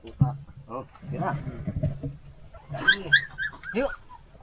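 Puppies whimpering and yipping on a mountain outing, thin high whines and short yelps breaking out near the end, mixed with people talking close by.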